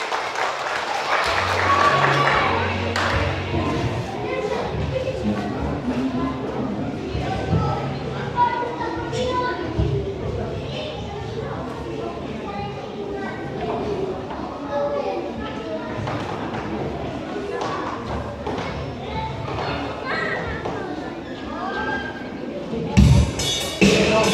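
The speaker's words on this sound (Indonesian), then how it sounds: "Kita berikan tepuk tangan kepada nomor undi 9" Sustained audience applause at a youth idol singing semifinal held by an HKBP church, a dense wash of clapping lasting over twenty seconds with crowd murmur and a few thumps near the end.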